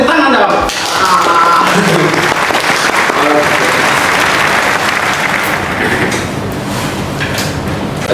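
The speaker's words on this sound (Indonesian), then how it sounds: "beri tepuk tangan dong." A studio audience gives loud, continuous applause welcoming guests to a campus photography club podcast, a thick wash of clapping that holds steady throughout, with voices briefly audible at the start.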